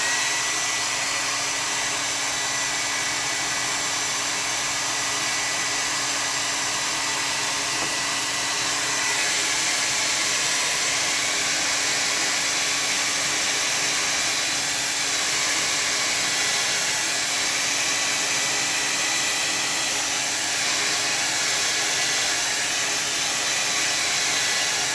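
A hair dryer runs without pause for about 25 seconds while drying gouache paint, a loud, steady close-up whoosh with a constant motor hum and no talking.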